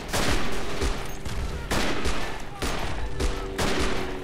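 Dense, sustained rifle and machine-gun fire from a World War I battlefield in the Verdun 1914-1918 video game, with repeated loud volleys and bursts overlapping continuously for several seconds.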